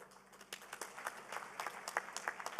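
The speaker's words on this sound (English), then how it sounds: "a round of applause for His Excellency" Applause from a conference audience at a pharmaceutical industry summit in Pakistan: a fairly faint, distant patter of many hands clapping steadily in a large hall, with no voices.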